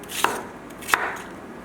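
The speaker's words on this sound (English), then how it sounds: "Next one, cut in half." A knife cuts food in half on a cutting board during home cooking prep, two crisp close chops about 0.7 seconds apart in a quiet kitchen.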